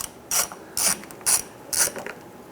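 A ratchet on an extension clicks in four quick bursts of rapid metallic ticking, evenly paced with short pauses between, close and clear, while removing a bolt on a 2008-2013 Nissan Rogue during a water pump replacement.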